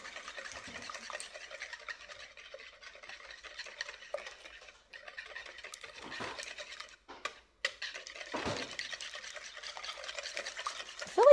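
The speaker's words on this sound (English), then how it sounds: "go ahead and whisk your eggs" Eggs whisked vigorously in a bowl for a taco pie, a steady scraping, rhythmic clatter of the whisk against the bowl, fairly quiet and close, with brief pauses.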